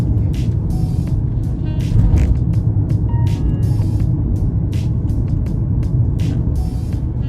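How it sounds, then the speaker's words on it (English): A Mercedes-Benz car rolls through a residential neighborhood, its engine and road noise a steady low rumble heard from inside, with brief higher clicks and whooshes scattered over the drone. "I am really having a good time driving this car"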